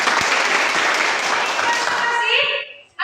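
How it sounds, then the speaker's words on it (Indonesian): A classroom group claps hands in a burst of applause that fills most of the moment, dense and lively, then trails off abruptly near the end. "Baik, tepuk tangan dulu."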